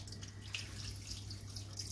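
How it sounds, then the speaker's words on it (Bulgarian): Water trickles faintly and steadily into the bottom of a baking tray holding duck legs, a soft continuous splash with no talking. "Наливам малко вода на дъното"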